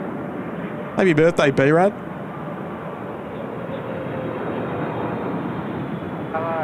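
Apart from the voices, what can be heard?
Boeing 777 airliner arriving on runway 16 right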